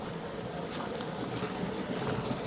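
Water rushing steadily through a flooded Swiss field after about 100 mm of rain in a day, a continuous broadband roar with wind buffeting the microphone and no talking.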